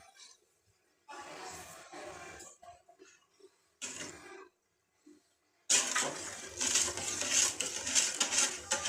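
Rice pudding (payesh) with thickened boiled rice and sugar stirred in a cooking pot, giving scraping, sloshing strokes in short bursts at first, then a louder, continuous stretch of stirring near the end.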